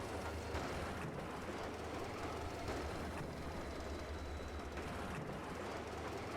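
A locomotive hauling rail wagons rumbles steadily in Metro Exodus, with a continuous, fairly distant clickety-clack of wheels rolling along the track and no voices over it.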